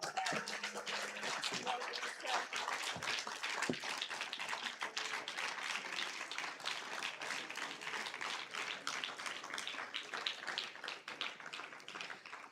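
Sustained applause from a debate audience, dense clapping that carries on steadily for several seconds without a break.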